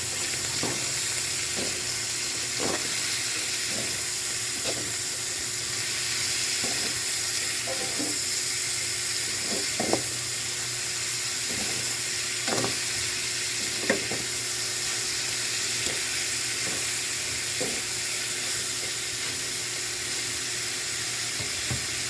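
Adobong karne with sitaw is stirred in a frying pan, a steady oily sizzle running throughout, punctuated by regular sharp taps and scrapes of a utensil against the pan.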